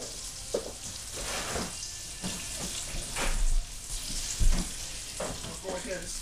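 Flour-coated chicken shallow-fries on low heat in just enough oil to cover the pan, giving a steady close sizzle with intermittent clinks and stirring bumps.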